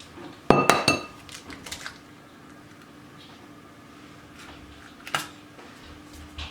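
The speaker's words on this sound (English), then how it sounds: "I'm going to crack all the eggs" Eggs are cracked into a bowl for a quiche Lorraine: a pair of sharp, close clinks of shell against the bowl rim, a quiet stretch, then one more crack, all in a quiet kitchen.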